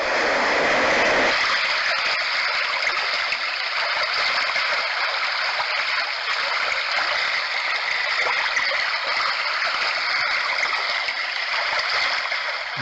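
A nature sound machine on its brook setting gives off a steady, fairly loud stream of running water with a bright rushing hiss and faint gurgling. It plays continuously with no voices, right after a short opening moment.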